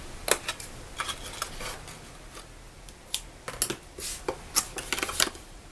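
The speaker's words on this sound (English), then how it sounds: "I'm just gonna make a small cut so that way you don't see it." Scissors make a small cut in paper while assembling a Stampin' Up! stationery box, giving a series of quiet, crisp snips and rustles spread irregularly across the clip, close and faint.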